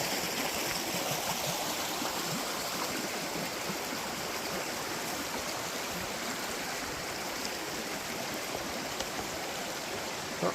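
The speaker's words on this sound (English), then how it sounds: "By the Glugging Creek." A woodland creek flows steadily nearby along a hiking trail, a continuous, even rush and babble of water with no voices over it.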